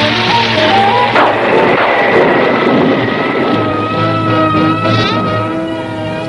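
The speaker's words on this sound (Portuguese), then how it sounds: "Dê partida no motor." A car engine starts, then a steady roar runs throughout, loud and close, with a slight rise and shift in pitch partway through.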